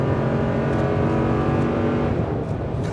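A 2021 Toyota Tundra 1794 Edition V8 pickup accelerates hard onto a highway, its engine note loud, steady and climbing throughout with road noise beneath and no talking.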